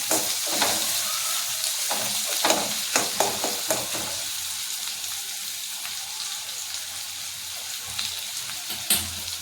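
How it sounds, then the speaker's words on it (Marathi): Chilies and garlic sautéing in a pan, a continuous crackling sizzle with scattered sharp pops and occasional stirring scrapes, close and fairly loud throughout. "यात आता मिरची आणि लसूण टाकायचं आहे. छानपैकी परतवून घ्यायचं."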